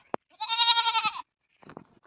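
A goat at a home garden in rural Assam gives one clear, drawn-out bleat, close and fairly loud, followed by a few faint, scattered knocks and rustles.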